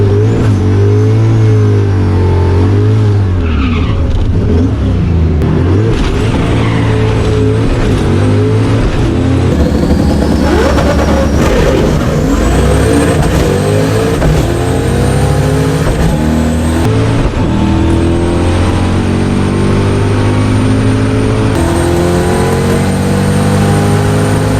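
A street car making a drag racing pass at the strip, its engine loud and close throughout, revving and accelerating hard through the gears with no talk over it.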